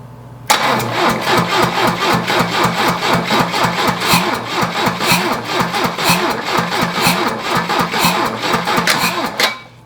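Engine of a 1982 Lada cranking on its starter, a steady fast rhythmic churning that runs loud and close for about nine seconds without catching.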